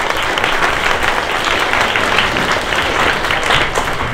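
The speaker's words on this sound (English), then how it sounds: "Let's have a round of applause, please." Loud, dense audience applause at a junior hackathon show-and-tell, many people clapping continuously at an even level for about four seconds with no talking over it.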